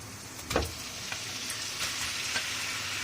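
Marinated chicken keema sautéing in hot oil makes a dense, steady frying hiss, with a louder burst near the start and a few faint stirring scrapes.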